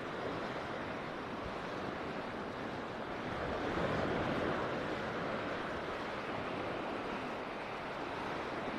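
Surf washing onto the beach at Kumköy beside a resort hotel, a steady broadband wash of waves with some wind, swelling slightly mid-clip, no voices.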